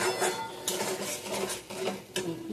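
Onion and spices sautéing in a pan for katla kalia, with a utensil scraping and clinking against the metal in quick irregular strokes, fairly quiet.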